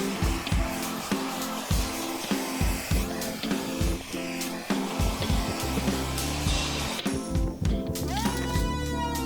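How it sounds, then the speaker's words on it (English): A heat shrinker fitted with an extension pole blows a steady, loud roar of hot air while shrinking plastic wrap over a Harris FloteBote CX 200 pontoon boat. The roar holds steady throughout, with some shifting tone and a few clicks. "I just added the extension pole to my shrinker, so now it's time to just shrink up the rest"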